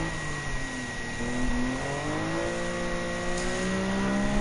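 A red Lamborghini Countach racing in Gran Turismo 7, its engine droning steadily with rising and shifting pitch as it pushes toward the finish, moderately loud and alone without speech.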